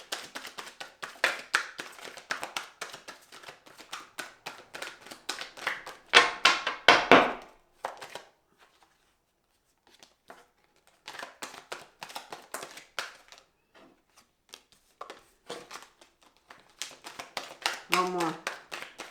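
A Rider-Waite tarot deck is shuffled in quick bursts of soft, close card taps and riffles, with pauses between bursts and a person talking at times.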